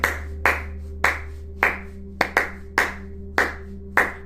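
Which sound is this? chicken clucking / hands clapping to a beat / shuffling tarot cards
hands clapping to a beat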